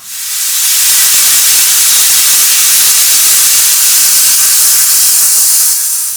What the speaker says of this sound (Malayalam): ഒരു ആറ് അല്ലെങ്കിൽ ഒരു എട്ട് വിസിലോണം നമുക്ക് കുക്കറിൽ നിന്ന് അടിക്കാം